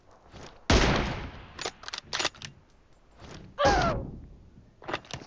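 M24 sniper rifle shots in a mobile battle game, a few sharp loud reports with short gaps between them, plus a bolt-like mechanical clack, close and without talk.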